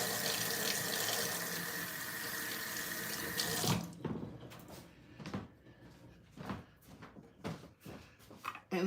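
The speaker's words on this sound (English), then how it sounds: "Let me do a quick wash of my hands." A kitchen tap runs steadily as hands are washed in a sink, a loud continuous gush lasting a few seconds before it cuts off, followed by scattered clinks and handling noises nearby.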